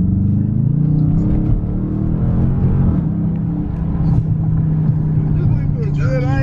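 The 5.7-liter V8 of a new 2019 Dodge R/T rumbles steadily at close range, with a few revs rising over the idle, while people talk over the engine throughout.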